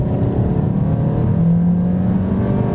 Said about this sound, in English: As I'm sure you can hear, it roars to life.